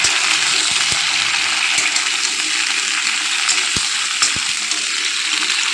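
Cut flat beans sizzle in hot oil with a continuous loud hiss and crackle, dotted with sharp pops and spatters, close by.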